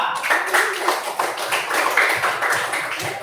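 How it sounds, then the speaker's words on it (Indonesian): Classroom applause for a presenting group during a teaching assessment, a modest patter of hand clapping from a small gathering, fairly close and uneven, lasting a few seconds. "Tepuk tangan untuk kelompok 2"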